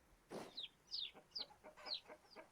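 A hen in the Vintage Story video game clucks in a short series of distinct, fairly quiet calls spaced across a couple of seconds, with no talk over them.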